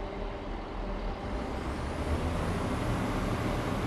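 A train engine in Train Sim World 4 gives a low, steady rumble with a droning bass, holding constant and building slightly toward the end, with no voices.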